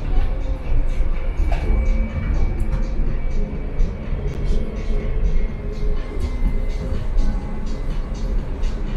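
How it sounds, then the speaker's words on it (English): Las Vegas monorail train running under automatic control, a steady low rumble with faint rhythmic clicks throughout, while a voice speaks over it. "Our cutting-edge automatic control system allows the monorail to run without anyone at the wheel."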